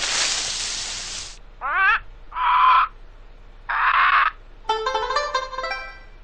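Several distinct squawking parrot calls from a cartoon forest game, Dora the Explorer: Click & Create, come in short separate bursts, some warbling and rising, the last a longer chattering trill; loud and close with quiet gaps between.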